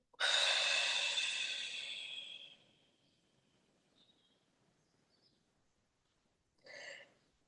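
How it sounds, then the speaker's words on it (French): Slow, deep breathing during a gentle yoga session, with one long audible exhale fading out, then a quiet pause before a shorter breath near the end. No talking. "Encore une fois, inspire. Et expire."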